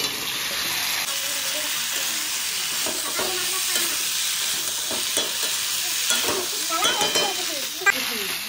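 Potatoes tumble into a pan of cooked-down spice masala of ground coriander, cumin, ginger, dried chilli, turmeric and green chilli, sizzling loudly and steadily with scraping stirs for aloo dum, close up.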